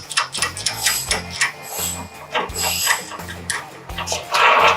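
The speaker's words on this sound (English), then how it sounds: "I'm gonna crank this one pretty far down." A hoist ratchet cranked down, a loud close run of rhythmic clicking and mechanical clatter with repeated ratcheting strokes, no talking.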